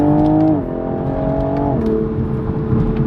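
Inside a 2021 Toyota Supra with a new downpipe, air intake and lowering springs, the engine drones loudly and steadily, its pitch stepping down twice as the car shifts through gears.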